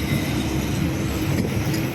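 A train rumbles past close by at the new Pamban Bridge, Rameswaram, a loud, steady roar of wheels and carriages without pause.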